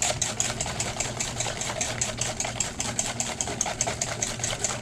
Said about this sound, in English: whisk vigorously to make sure everything is blended up and incorporated